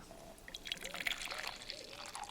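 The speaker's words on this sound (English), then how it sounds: "She poured herself a cup and headed out the back door." Coffee from a half-full pot poured into a cup in a kitchen, a soft, steady liquid trickle lasting a couple of seconds, fairly quiet and close, with faint voice-like tones in the background.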